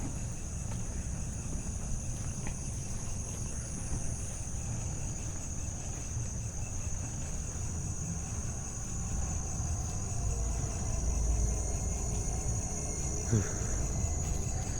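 Crickets and cicadas at night around an abandoned housing complex in Bogor, a steady high insect drone with a continuous buzzing layer, calm and unbroken, with faint low rumble beneath.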